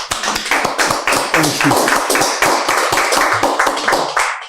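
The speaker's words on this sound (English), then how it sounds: "let's give him a round of applause, please" An audience applauds Dr. S.N. Ubong at a launch event, a short burst of close, rhythmic hand claps that holds steady for a few seconds before stopping abruptly.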